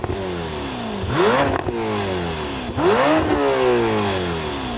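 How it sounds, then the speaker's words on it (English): Two supercars, a Lamborghini Temerario and a Ferrari SF90, rev their engines one after the other in a loud, close sound check, each rising sharply in pitch before falling back to idle. "Rev up your car, Mark."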